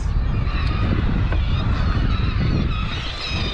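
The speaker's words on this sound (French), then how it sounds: "Il y a des centaines de mouettes sur l'eau" Hundreds of seagulls gather on the sea off the Mediterranean coast between Frontignan and Palavas, their honking calls blending into continuous loud wind and water noise from a fishing boat, with no clear single call standing out.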